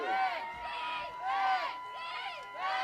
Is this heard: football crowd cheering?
yes